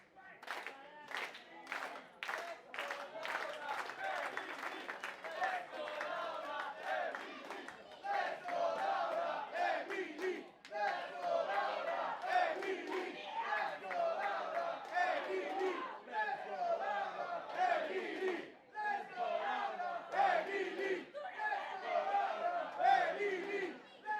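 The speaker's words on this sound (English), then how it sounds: "You can hear the crowd is split 50-50." Pro wrestling crowd at a live event at Largo Venue, Rome, split in its support, with dense cheering, rhythmic chanting and clapping at the start, and a continuous roar of voices and shouts sustained throughout, loud and close.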